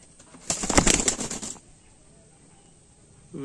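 A large Poschima pigeon being handled beats its wings in a rapid, close flurry of flapping for about a second, then goes quiet.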